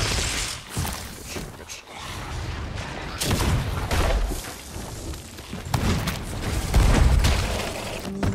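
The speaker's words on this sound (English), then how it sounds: "Matt's shooting him with cannonballs" Booming cannon blasts in the pirate game Sea of Thieves, several heavy thumps spread across the stretch amid continuous game noise and clatter, loud and close.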